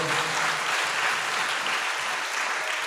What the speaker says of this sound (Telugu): చప్పట్లు కొడదాం అందరూ గట్టిగా